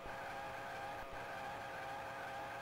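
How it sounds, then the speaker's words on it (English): Tiny racing cars buzz past the start-finish line in Micro Machines 2: Turbo Tournament, a steady whining engine drone with a sustained electronic tone and faint skidding throughout. "You hear the noise when the other cars go across the start finish line"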